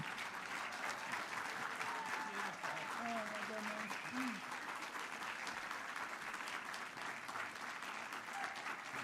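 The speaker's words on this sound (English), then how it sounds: "Please stand up and give him the applause and the thank you he deserves." An audience stands and applauds at an event on the dietary guidelines, giving sustained, even clapping at a quiet level, with faint voices and a cheer or two mixed in.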